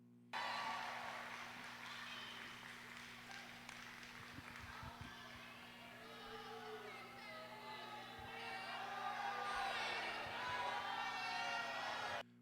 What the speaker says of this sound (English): They booed him right from the jump